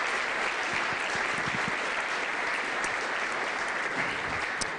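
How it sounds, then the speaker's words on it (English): A crowd at a school Teacher of the Year celebration gives a round of applause for local businesses and community members. The clapping from many hands is sustained, steady and moderately loud for several seconds. "let's give all of them a great round of applause,"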